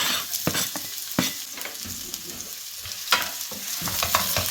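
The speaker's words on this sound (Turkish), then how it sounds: "kızmış olan yağımıza soğanlarımızı ilave ediyoruz" Onions go into hot oil and fry with a steady, busy sizzle, with the scrape and clack of stirring breaking through at intervals.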